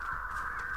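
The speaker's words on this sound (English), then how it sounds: "Oh, crows are on the boat." Crows caw in the video game Dead by Daylight, a single drawn-out harsh call heard close and clear over a low ambient rumble.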